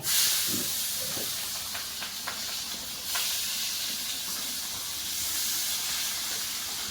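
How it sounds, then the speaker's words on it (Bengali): Thinly sliced onions hit hot oil with cloves for a mango-meat curry, giving a steady sizzling hiss over a gas flame, loudest at first and then settling into an even, moderate fry with faint clinks. "পাতলা পাতলা তো করে পেঁয়াজ দেবো তেলের মধ্যে"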